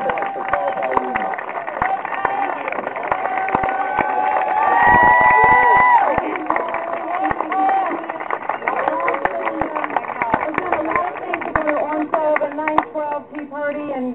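Rally crowd for New York governor candidate Carl Paladino claps and cheers, a loud, sustained roar of applause and shouting voices swelling midway, with crowd chatter running throughout.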